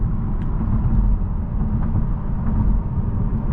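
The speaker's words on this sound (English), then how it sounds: "You can still hear quite a bit of road noise" Steady low road rumble and tire roar fill the cabin of a 2024 Mazda 3 GT AWD on the move, a constant, fairly loud drone with no voices over it.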